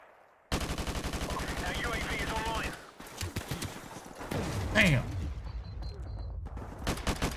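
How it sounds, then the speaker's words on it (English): A mounted machine gun in Modern Warfare Remastered fires a sustained rapid burst for about two seconds, then scattered shots, impacts and game noise follow, with some voice chatter in the mix. "Use that mounted gun."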